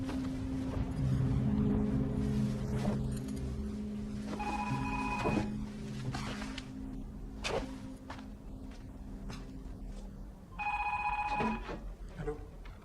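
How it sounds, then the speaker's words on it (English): A telephone rings in a quiet domestic scene from the film The Lunchbox, two separate bursts of bright trilling bell rings spaced several seconds apart, with soft background movement and a low hum between them. "this is when Ila gets the phone call"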